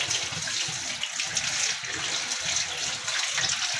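Water pours steadily into a bowl of overly salty food, a continuous splashing gush at close range that runs unbroken with no talking.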